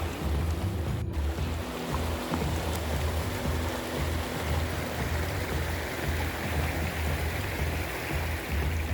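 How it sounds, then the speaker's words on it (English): A creek rushes beside a hiking trail near waterfalls, a constant broadband wash with a low rumbling undertone, close and steady throughout with one brief sharp click early on. "we're following the creek"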